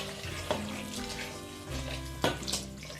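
Water is poured gently from above into a pot of stuffed peppers, a soft close trickle and splash with a couple of brief louder sloshes.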